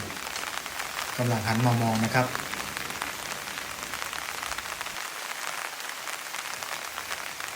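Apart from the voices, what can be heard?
raindrops falling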